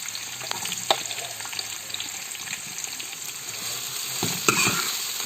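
Sliced onions frying in oil in a pan for Kerala dum chicken biriyani, a steady close sizzle with occasional stirring clatters and sharper spatters, no talking.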